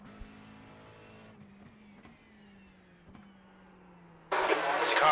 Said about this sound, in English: There's a car rejoining.